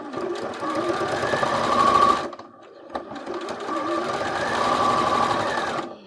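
A sewing machine fitted with a quarter-inch foot stitches a foundation paper quilt block in two close, rapid, buzzing bursts of about two and three seconds, separated by a brief pause, with no talking.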